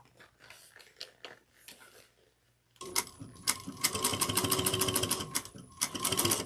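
A sewing machine backstitches through the bulky fabric of a slouch bag, starting with quiet handling and light clicks, then running as a loud, steady rapid stitching burst with a short pause before resuming.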